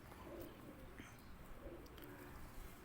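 Teddy breed pigeons cooing softly and low amid faint, noisy background hiss in a loft, distant and quiet.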